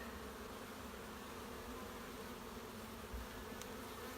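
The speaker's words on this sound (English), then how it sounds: "The bees are getting somewhat agitated." Dense, steady buzzing of many agitated honeybees during a hive inspection, filling the clip, a continuous drone with no talking.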